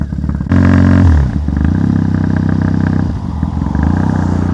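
A 2015 TT900 motorcycle with a custom chunky, low build starts up close by after a short quiet moment, then runs at a loud, steady low-speed throb with slight rises in pitch, and no talk.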